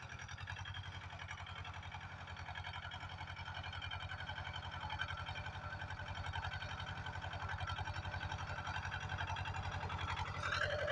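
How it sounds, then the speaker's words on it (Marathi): A tractor engine runs steadily while making irrigation ridges in a field, a low regular chugging drone at moderate distance with no break and no voices. "आता दंड पाडतो ट्रॅक्टर"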